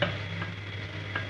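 Potato pieces frying with onion in a frying pan on the stove, a close steady sizzle with brief stirring scrapes.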